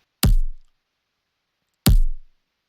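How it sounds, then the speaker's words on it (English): Drum sample of a punching bag being hit, two separate heavy thuds with a deep low body and quick decay, well spaced in silence. "I got this sample pack of like someone hitting a punching bag"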